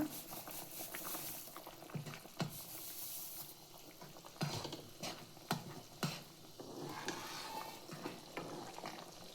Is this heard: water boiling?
yes